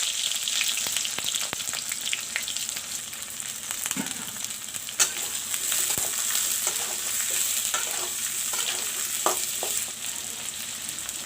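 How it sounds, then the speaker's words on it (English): Onions sizzle in hot oil with cumin seeds for a chicken and potato curry, a dense continuous hiss close up with occasional stirring scrapes and small pops, no voices. "Put the onions."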